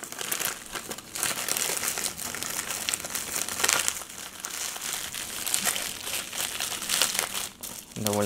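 Continuous crinkling and rustling of packing material as a tightly packed AliExpress parcel holding a 32-in-1 magnetic screwdriver set is opened up close, with dense irregular crackles running throughout and no clear speech.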